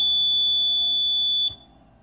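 An Arduino GSM shield (SIM900, Arduino Mega) triggers an electronic doorbell chime, heard as a steady, piercing electronic tone that holds for about a second and a half, then cuts off abruptly into quiet.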